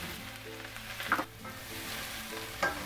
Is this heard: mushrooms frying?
yes